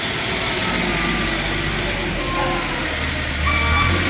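A 2015 Moffett M8 55.3 truck-mounted forklift drives with a steady diesel engine rumble, and faint reversing beeps sound near the end.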